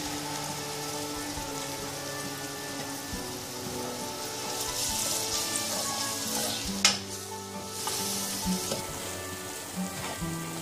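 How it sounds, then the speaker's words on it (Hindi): Masala spices sizzling and frying with softened onions in a pan, a steady, moderately quiet crackle with occasional stirring scrapes and one sharp clatter partway through. "अब इसके अंदर मैं ये मसाला डाल दूंगी और इसे भूनूंगी।"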